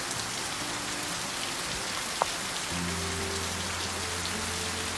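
Rain patters steadily on a bus shelter in the hamlet of Le Mas in Auvergne, a dense even hiss of drops with a low hum underneath and one brief tap midway.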